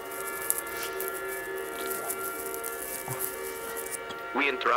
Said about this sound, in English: the sirens make it more spooky